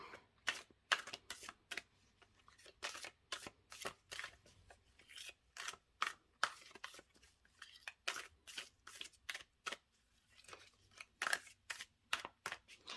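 Tarot cards shuffled by hand in steady, rapid riffles and taps, quiet and close, repeating evenly with no talking.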